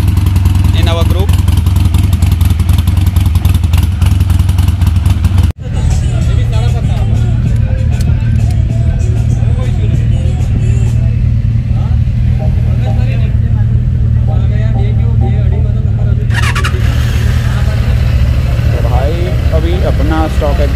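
Superbike exhausts rumble loudly and steadily throughout a group gathering of exotic sports motorcycles, with deep engine drone and occasional revving, a brief cut near the start, and voices talking underneath.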